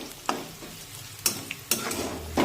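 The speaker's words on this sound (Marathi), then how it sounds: "आता मिरची सुद्धा आपल्याला तेलामध्ये छानपैकी परतून घ्यायची आहे।" Garlic and green chillies cut into medium pieces fry in oil for Maharashtrian tempered rice, a steady close sizzle broken by three or four sharp scraping stirs of a spoon against the pan.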